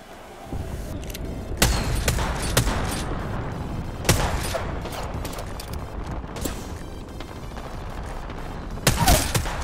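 Sharp bursts of Havoc rifle fire in the Apex Legends video game, several loud separate volleys with quieter rattling shots and rumbling between them, no speech.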